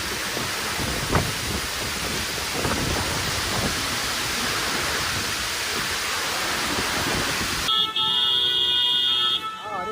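Heavy rain pours steadily through a violent summer thunderstorm in Paris during a heatwave, a dense, loud hiss with faint rumbles. Near the end it cuts to a quieter scene where car horns honk.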